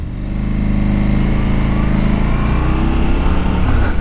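A 2021 KTM 1290 Super Adventure S pulls away with a loud, close engine note that rises steadily as the bike accelerates, continuous and unbroken with no talk over it.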